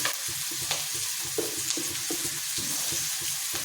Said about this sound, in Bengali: পেঁয়াজটা একটু ভালো করে ভাজা করে নেব।